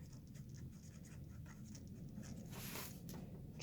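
A pencil scratches across a paper worksheet in a quiet classroom, a soft, faint, steady scribbling with small strokes and no one talking.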